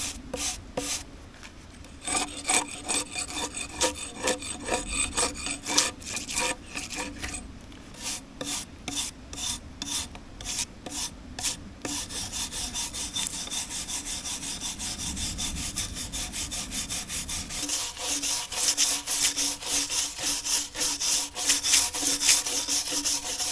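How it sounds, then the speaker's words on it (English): Wire brush scraped repeatedly along a charred wooden log, a rhythmic series of harsh rasping strokes, close and clear, continuing steadily with no talking. "So I just use a wire brush. I'm just gonna scrape away all this excess char."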